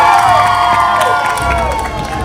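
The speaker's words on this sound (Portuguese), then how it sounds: "Barrabás é libertado e sai entre a multidão que aclama e aplaude." A crowd cheers and applauds loudly and continuously as Barabbas is freed during a Passion of Christ play, shouts and whoops rising over steady clapping.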